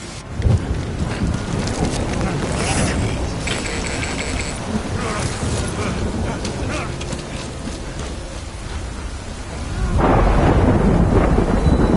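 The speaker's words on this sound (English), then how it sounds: "Good thing it was raining." A game thunderstorm with steady heavy rain and rolling rumbles of thunder, growing louder and denser toward the end, with no voices.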